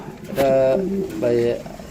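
Two soft, throaty coos from Dragon Huma pigeons sound close by, one after the other with a short pause between them.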